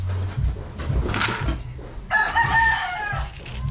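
Chickens cluck close by while a rooster crows in a loud, drawn-out call in the second half, amid farmyard background sounds.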